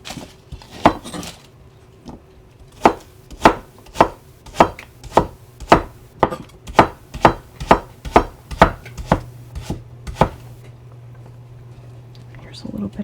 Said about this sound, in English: it looks like part of this onion's no good, so we'll chop that out